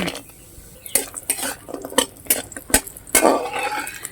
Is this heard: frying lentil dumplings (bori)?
yes